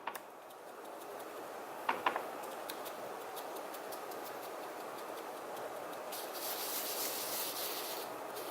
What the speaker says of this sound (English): I'm not rubbing, I'm just patting.